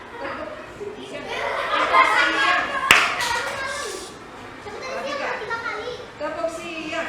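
Children and a teacher chant a rhythmic clapping game in a classroom, hand claps in short patterned bursts, loudest around the middle, with voices running throughout.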